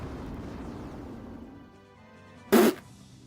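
A Firaga fire spell detonates in Final Fantasy I on PSP as a single short, punchy burst that stands out sharply after a low rumbling background.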